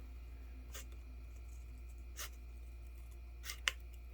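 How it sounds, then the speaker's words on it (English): Scissors snip through paper while a small kite is made, three or four short, crisp cuts spaced a second or so apart, close and soft over a low steady hum, no talking. "So let's cut this side too."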